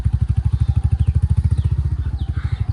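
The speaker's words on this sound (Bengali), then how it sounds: "দেখুন কোনটুকু গলির ভিতর থেকে বাইক চালায়," Motorcycle engine running close by in a narrow lane, a steady rapid pulsing putter that holds evenly for a few seconds with no talk over it.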